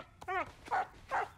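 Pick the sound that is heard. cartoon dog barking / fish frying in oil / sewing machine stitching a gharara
cartoon dog barking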